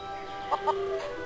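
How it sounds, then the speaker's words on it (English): Chickens in The Curse of Monkey Island video game give two quick, clear clucks in a row over a quiet, steady background. "So many feral chickens."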